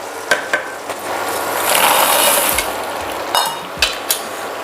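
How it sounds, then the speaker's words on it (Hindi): Fried khurma is stirred through bubbling sugar syrup in a pan, a soft continuous sizzle and scrape punctuated by several distinct spoon knocks against the metal. "इसे हम ऊपर से नीचे अच्छे से चला लेंगे"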